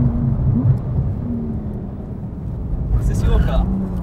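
A Porsche 911 Turbo S drives at the Spa circuit toward La Source corner, its engine a steady, low, close rumble inside the car that swells slightly near the end.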